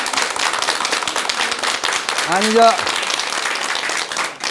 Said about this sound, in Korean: 느껴진 박수 한번 쳐요.